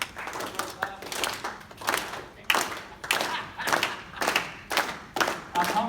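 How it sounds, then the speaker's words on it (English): A standing audience at a talk claps in rhythmic bursts, about eight pulses of close hand claps rising and falling in a steady beat, with voices underneath. "All right, everybody will clap."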